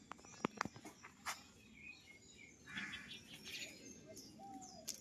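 Pigeons kept for sale coo softly and faintly in the background, mixed with a few sharp chirps and small clicks near the start and light rustling, all quiet and with no talk.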